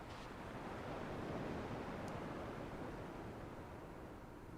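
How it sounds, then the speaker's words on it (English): Ocean waves washing onto shore in the Kingdom Hearts 2 video game, a steady broadband rush of surf that holds at a constant level throughout with no pauses and no voices. "At least the waves sound the same."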